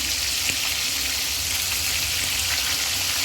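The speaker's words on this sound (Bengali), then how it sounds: "2টা করে চাপ দিয়েছি ভাজার জন্য, বড় বড় চাপ 2টা লাগবে দিতে" Two large beef chap kebabs fry in hot oil, a dense, even sizzle that holds steady and close, with a few faint pops and no voices.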